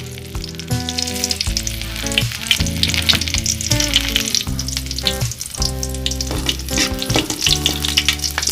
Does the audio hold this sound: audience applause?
no